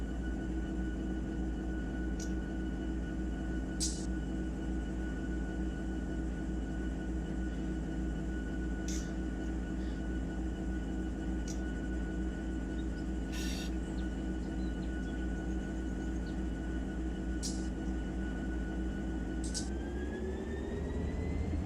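A locomotive running in the Run 8 train simulator game gives a steady, continuous diesel rumble with a sustained tonal whine and a few brief higher clicks, fairly loud and with no talking.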